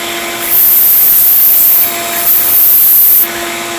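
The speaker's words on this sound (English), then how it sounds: "I have a relatively worn 120 belt on here, going real light." A belt grinder with a worn 120-grit belt sharpens a Henckels chef knife in two light passes. Each pass is a loud, hissing, abrasive screech over a steady motor hum.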